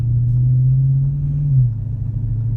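A car engine hums steadily under load with a low rumbling drone that shifts slightly in pitch midway as the car gets more aggressive, heard close from inside the cabin with the windows down, with no talking.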